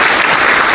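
A button-triggered clapping sound effect plays as a short, loud, continuous patter of many hands, heard alone without any voices.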